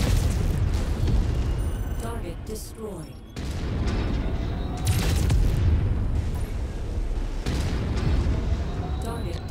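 Heavy cannon fire from a mech in Mechwarrior 5 at helicopters, heavy booms and explosive bursts over a dense, loud battle din, with a short dip near the middle before the barrage picks up again.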